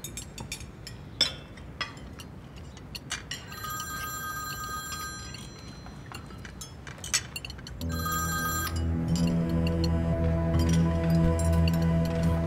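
A telephone rings in brief repeated bursts over a quiet room, then a steady tonal ring or melody takes over and continues loudly to the end.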